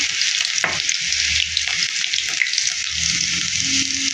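Green chillies and mustard seeds fry in hot oil in a pan, a steady broadband sizzle running throughout with a sharp crackle near the start, close and fairly loud with no talking.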